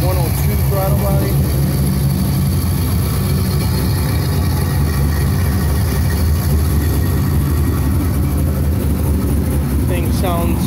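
A 2005 Corvette with an LS2 engine, Texas Speed Chop Monster cam, JEGS performance intake and 102 throttle body idles with a loud, deep, lumpy rumble, steady and close throughout.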